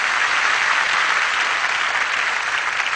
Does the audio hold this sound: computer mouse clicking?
no